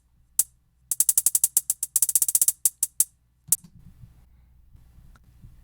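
Programmed electronic hi-hats with random velocity in Ableton Live tick in fast, uneven bursts of crisp metallic clicks at varying loudness, followed by a faint low rumble once the pattern stops.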